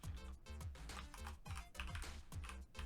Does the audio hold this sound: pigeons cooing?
no